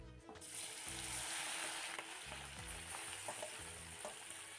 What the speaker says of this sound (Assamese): ইয়াতে মিঠাতেল দি তেজপাত আৰু জলকীয়া দুটা দি দিছোঁ।